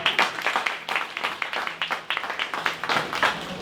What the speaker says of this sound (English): I think that deserves a round of applause again.